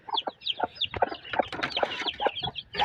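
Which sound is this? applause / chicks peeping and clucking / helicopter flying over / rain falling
chicks peeping and clucking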